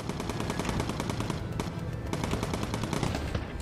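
Machine gun fire in the video game Bomber Crew comes as rapid, continuous bursts that rattle loudly and almost without pause, with a brief dip in the middle and no voices.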